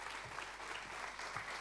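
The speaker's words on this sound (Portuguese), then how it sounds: "Um grande aplauso para a Clarice" A studio audience claps in a dense, steady burst of applause to welcome the guest Clarisse onto a television talk show, with no voices over it.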